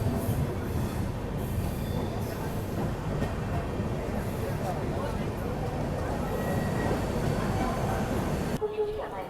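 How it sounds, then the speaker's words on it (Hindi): Jaynagar–LTT Pawan Express departing Khandwa Junction station, a continuous loud rumble of rolling wagons with wheel squeal and rail clatter, close by, with speech faintly underneath. "यहाँ डिपार्चर हो रहा है जयनगर LTT पवन एक्सप्रेस का"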